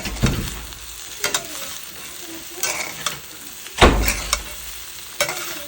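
Cooked rice being stirred into broccoli and soya chunks frying in a pan: a steady sizzle broken by several scraping spatula strokes, the loudest near the middle.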